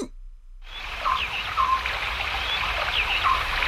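Studio effect of a small stream gurgling and trickling steadily at close range for a Korean radio comedy skit, with light bird-like chirps over the flowing water after a brief quiet start.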